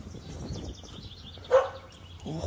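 Puppies barking outdoors, a few short yips and barks spread across the stretch, with one louder sharper bark near the middle and quieter background sounds between.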